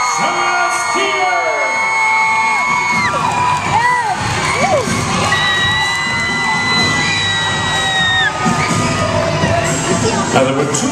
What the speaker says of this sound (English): My lords, my ladies, raise a cheer for my Lord Marshal, Celestier!